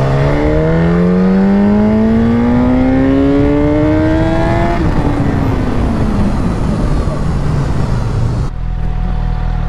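A motorcycle fitted with a quickshifter revs hard close by, its pitch climbing steadily before a sharp shift drops it, then it roars on at high revs until it cuts off abruptly.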